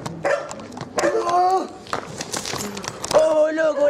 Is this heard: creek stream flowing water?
no